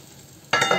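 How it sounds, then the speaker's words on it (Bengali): Fried potatoes tipped into a pot of rice for Arabian chicken kabsa set off a sudden loud sizzle after a quiet moment, with brief stirring scrapes. "এবার আমি ভেজে রাখা আলুটা দিয়ে দেব।"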